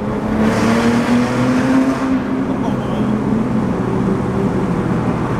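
A loud, raspy Porsche GT2 engine holds a steady roar at high revs in third gear, with a slight rise and dip in pitch, continuous throughout.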